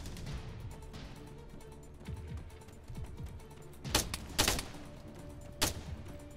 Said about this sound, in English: It's got a machine gun.